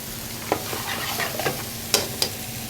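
Leftover risotto being stirred and broken up in a hot pan, a soft continuous sizzle punctuated by several spoon scrapes and taps against the pan.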